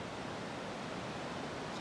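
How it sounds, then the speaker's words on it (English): A rushing creek torrent in the Fryatt valley gives a steady, dense roar of water that stays continuous and even throughout. "Too bad we're not hiking along that creek. Sounds like a raging torrent right now."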